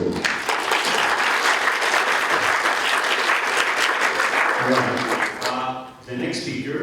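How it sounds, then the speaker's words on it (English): Applause from an audience after an astronomy talk on exoplanets around cool stars, loud dense clapping sustained for several seconds, then thinning, with a brief dip near the end and a few voices emerging as it dies down. "An applause, please."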